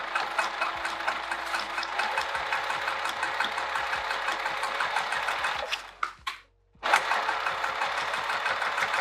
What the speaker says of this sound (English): I'm going to turn this and start top stitching